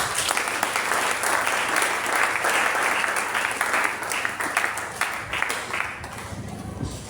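A church congregation applauding during a Sunday service, with loud, dense sustained clapping that gradually thins out toward the end, plus scattered voices mixed in.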